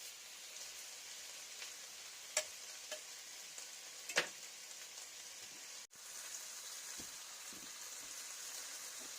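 Rind-on, fatty old-fashioned bacon fries in a pan with a steady close hiss and sizzle. A few louder pops and spits break through, and there is no talking.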